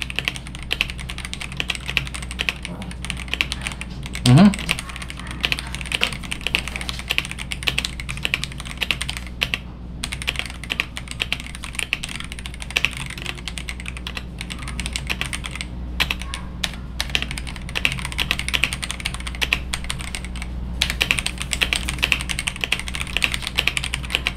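Steady, rapid clatter of keys on a Rakk Tala computer keyboard, typed continuously and close up for the whole stretch, with no voices over it.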